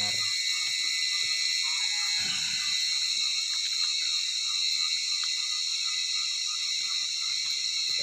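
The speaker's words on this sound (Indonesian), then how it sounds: "jangkrik yang terdengar." Crickets chirp steadily through the night around a garden hut in the countryside, a dense, continuous high trill that holds at an even level throughout, with faint low rustles underneath.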